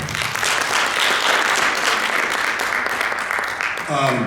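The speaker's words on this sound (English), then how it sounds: "big round of applause for them once again" An audience at a community education forum in Birmingham, Alabama applauds a panel of educators, a dense sustained clapping close by that runs for about four seconds before briefly thinning, with a voice starting at the very end.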